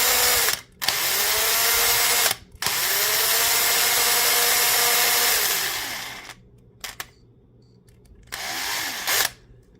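A power drill boring a hole about a quarter inch deep during a teacher appreciation build, whining loudly in several bursts with short pauses between them and winding down near the end.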